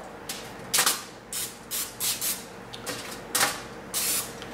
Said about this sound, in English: So I just give it a quick little spray with olive oil.